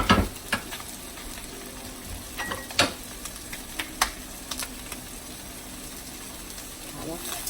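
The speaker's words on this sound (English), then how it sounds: "I'll stir that in" Hatch chilies roast in a pan as sugar is stirred in, giving a faint steady sizzle punctuated by sharp scrapes and taps of a utensil against the pan.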